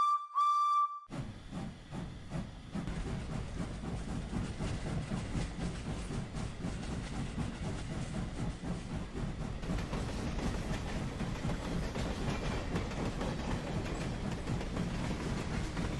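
Edward, a steam engine leaving a station, gives a short whistle, then hisses and chuffs steadily with a rumbling, continuous puffing rhythm.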